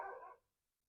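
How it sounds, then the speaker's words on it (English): A dog barks outdoors, one short, faint yelp-like bark at a distance that cuts off quickly into quiet. "So dogs are barking outside"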